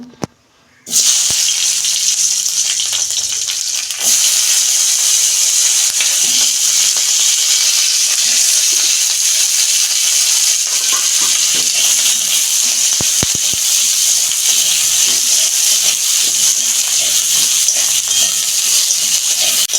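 Garlic, tomato, onion, two dried chillies and ginger fry in oil in a kadai, a steady loud sizzle that runs nearly unbroken after a brief quiet start, with a few faint clicks beneath.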